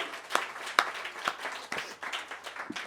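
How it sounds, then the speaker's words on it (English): An audience claps for a teacher, scattered hand claps landing irregularly over a few seconds, some sharp and near, others softer, a small crowd rather than a big ovation; no talking. "Should we give her a round of applause?"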